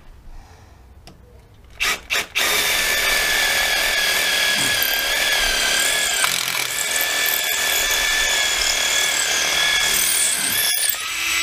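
A Makita 12V drill bores into soft brick with a steady, loud whirring grind that runs for about nine seconds after a few short bursts of starting. There is no talk.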